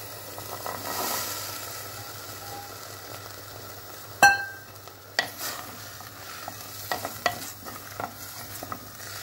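A spoon stirs boiled chickpeas and their cooking water into spices sautéed with black pepper and pepper flakes in a pot. Soft stirring and a low sizzle sit under a single sharp clink partway through, followed by scattered light scrapes.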